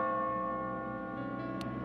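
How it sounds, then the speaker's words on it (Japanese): A bell tolls in the video game Catherine: Full Body, a sustained ringing tone with layered harmonics fading slowly, fairly soft and alone apart from a brief click near the end. "鐘の音が聞こえたらゴールはもうすぐだ。"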